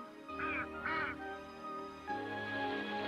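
Two loud nasal honks from a goose, close and in quick succession near the start, followed by a steady background tone with no further calls.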